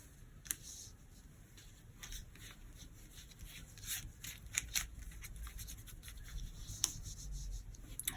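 A deck of playing cards being cut and handled on a table, with soft, quiet rubbing and shuffling plus scattered light ticks and flicks, close and faint, with no speech.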